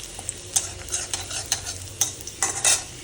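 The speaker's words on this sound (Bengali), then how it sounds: "ফার্স্টে দিয়ে দেবো রসুন কুচি। রসুনটা একটু লাল লাল করে নেব।" Chopped garlic fries in a pan with a steady crackling sizzle, punctuated by frequent sharp scrapes of a spatula stirring it, close and fairly loud with no talking.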